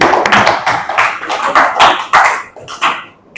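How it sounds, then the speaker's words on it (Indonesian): A school classroom of students claps in loud, uneven bursts close by, the clapping thinning out and fading toward the end. "Baik, beri aplaus."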